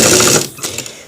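Sewing machine stitching a shirt collar, a steady fast mechanical whir that runs briefly, then slows and tapers off into fainter clicks.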